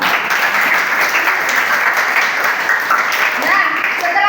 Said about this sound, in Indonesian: Oke, aplaus buat kita semua.